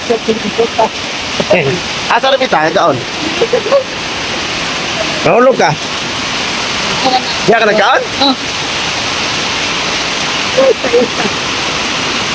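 Heavy rain roars steadily as a dense hiss throughout, while a person speaks in short phrases over it.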